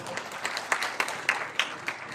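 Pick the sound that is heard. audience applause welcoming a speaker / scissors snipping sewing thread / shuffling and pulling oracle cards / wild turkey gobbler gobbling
audience applause welcoming a speaker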